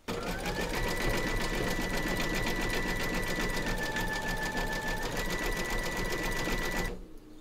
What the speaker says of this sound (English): Pop your hoop into your machine and stitch round number 9, and that's going to zigzag along here and join all the segments together.